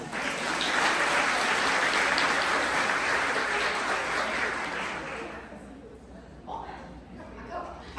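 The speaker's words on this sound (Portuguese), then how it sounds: "Palmas pra ela!" Audience applause during a sales communication talk: loud, dense clapping from a crowd for about five seconds, then it dies away into quiet room noise with a few stray sounds.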